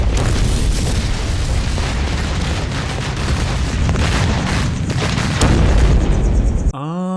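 Fireworks factory exploding in a film: a loud, sustained wall of booming blasts and rumbling roars that continues for several seconds, ending in a sharp cut to a ringing tone.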